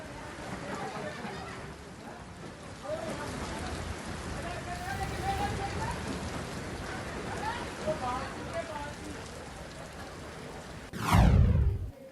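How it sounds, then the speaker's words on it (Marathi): Heavy pre-monsoon rain with stormy wind in Maharashtra, India, a steady wash of hiss throughout with faint voices underneath, ending in a loud, close gust or rumble near the end. "दुपारनंतर पावसाला सुरुवात झाली"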